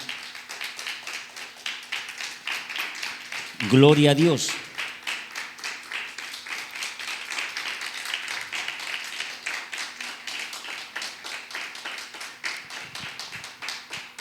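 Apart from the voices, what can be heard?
congregation applause in church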